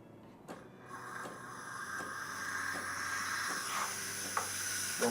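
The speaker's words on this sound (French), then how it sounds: "Puis là, il y a de la vapeur qui va commencer à sortir." The steam wand of a stainless steel Saeco Syntia espresso machine hisses steadily as it steams milk, the loud airy hiss building and holding with small gurgling shifts and faint clicks, and no talking.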